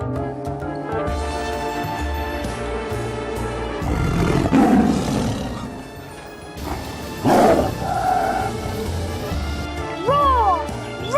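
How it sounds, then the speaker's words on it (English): Tiger roaring: deep, loud, close roars in bursts, with a backing music bed and a voice heard near the end. "It's a tiger roaring."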